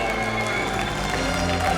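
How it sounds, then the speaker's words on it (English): An audience at the GT World Tour Nations Cup Final at the Nürburgring applauds the winner, giving a dense, steady wash of clapping and crowd noise with indistinct voices mixed in. "your biggest applause of the night for Mr. Giorgio"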